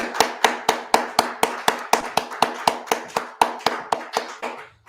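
Audience at a founder's tribute clapping in slow, sharp unison beats, roughly three per second, loud and close, with no talk over it.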